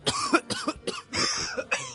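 Harsh, violent coughing from a sick old man in bed erupts close up in a rapid string of hacking bursts with barely a pause between them.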